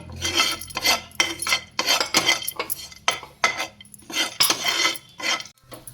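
Cashews and almonds frying in a little ghee, a pan sound with repeated bursts of scraping and metal utensil clatter, steady and close, with no talking.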